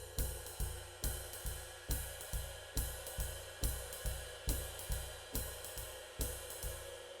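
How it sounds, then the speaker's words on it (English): Jazz drum pattern with a soft feathered bass drum under ride cymbal and hi-hat: an even, swinging pulse of low thumps and bright cymbal strokes, steady and close, with no voices. "So now adding the ride and hats, it will sound like this."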